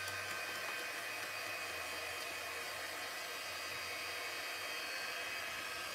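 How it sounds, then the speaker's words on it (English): A handheld heat tool blows steadily to dry a craft project, giving a constant airy whooshing hum at low to moderate level throughout, with no speech. "And then we'll take our heating tool"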